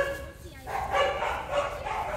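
Several dogs bark and yip in short, overlapping bursts at moderate distance, mixed with someone talking.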